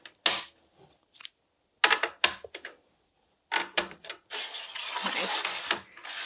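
Bowl sliders being dropped into a Giffin Grip lathe accessory, several short sharp clicks and plastic clatters in bursts, close, with a person talking between them.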